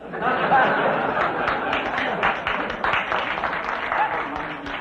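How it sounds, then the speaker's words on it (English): A television quiz show's studio audience breaks into applause mixed with laughter and chatter, a loud, busy swell of clapping and chuckles that rises early and carries on beneath murmuring voices. "I didn't see any necessity for applause at that level"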